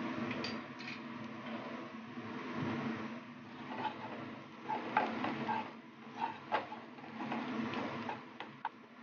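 A spoon stirs turmeric powder into a pan while paneer do pyaza cooks, giving faint scraping and light ticking over a soft, steady sizzle, quiet and close with no talk.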